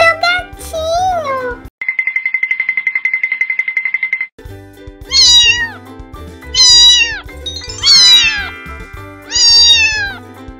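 A kitten gives a string of high, clear meows, about four in a row, over cartoon background music, after a steady electronic ringing tone and a brief child-like vocal.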